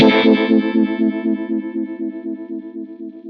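Electric guitar played through Line 6 Helix effects in stereo: one strummed distorted chord ringing out and slowly fading, with a rhythmic chorus-like pulsing throughout.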